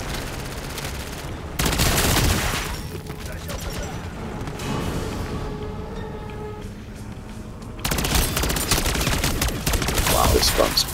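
Rapid bursts of gunfire from a powerful weapon in MW3 Zombies, loud and dense near the start and again toward the end, with game ambience between.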